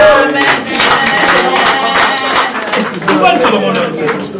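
A church congregation clapping rhythmically and cheering together in praise, dense and continuous for a few seconds, with voices mixed into the applause.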